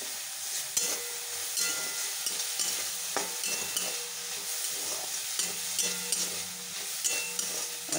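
Fourteen kinds of leafy greens fry with poppy seed paste in a pan, a constant close sizzle and hiss with intermittent spatula stirring scrapes and soft knocks, no voices.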